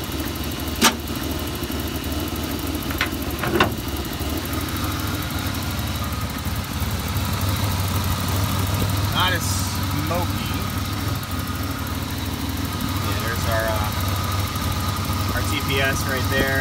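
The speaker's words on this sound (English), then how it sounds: "Quiet motor." A 1988 Ford Ranger engine idles low and steady with its hood open, a continuous rumbling hum with light ticking that runs the whole time, close by, with a few faint sounds over it.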